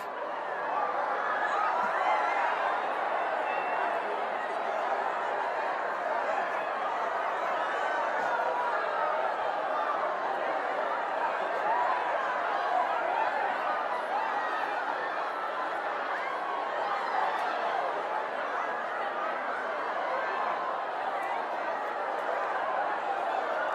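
A large seminar audience rises and greets one another, producing a steady, dense hubbub of many overlapping voices with scattered laughter. It is fairly faint and continuous throughout.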